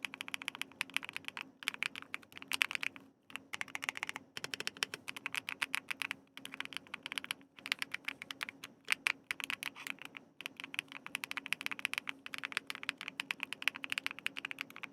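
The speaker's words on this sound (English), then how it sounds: "It has a really nice mushy like tap sound." Fingers type steadily on a soft, mushy computer keyboard, producing a rapid stream of close, quiet taps with brief pauses between bursts and no talking.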